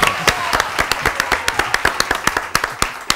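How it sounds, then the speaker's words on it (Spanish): An audience on a Spanish TV variety show applauds itself: a quick, fairly even run of sharp claps close by, with voices mixed in underneath. "¡Aplaudid vosotros mismos!"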